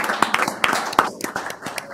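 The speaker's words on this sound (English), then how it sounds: "we need to give the Scouts a round of applause." Scattered applause for a group of Scouts at a city council meeting: a handful of distinct, fairly close hand claps in an uneven rhythm, moderately quiet and thin, with faint room noise between the claps.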